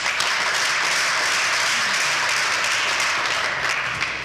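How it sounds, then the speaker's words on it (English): An audience at a live event claps in a steady, even round of applause that holds at a constant level from start to finish, with no voices over it. "So let's please give him a round of applause."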